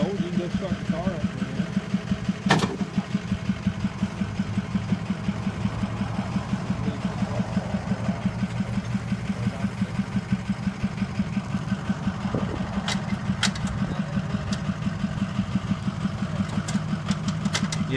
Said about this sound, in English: I told you to go start the car up.